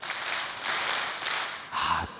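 A church congregation claps the 2002 World Cup "Daehanminguk" chant, a broad wash of many hands filling the room, swelling in uneven bursts with a short rhythmic accent near the end.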